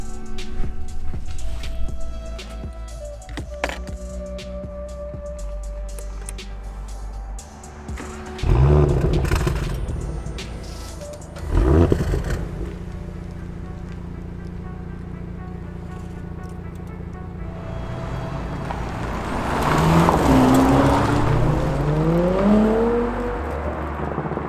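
An Audi S5 with a turbocharged 3-liter V6 accelerates hard, its engine note rising steadily with a loud, sustained roar and gear changes, including a strong climbing pull near the end.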